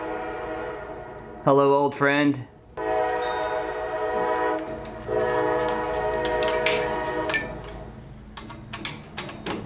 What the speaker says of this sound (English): Hey, train's here.